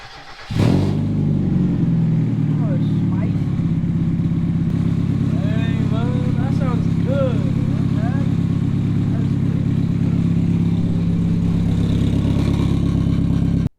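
A Mazda Miata's naturally aspirated engine cranks and fires up, then settles into a loud, throaty rumble through a free-flowing aftermarket muffler exhaust, with voices talking over it.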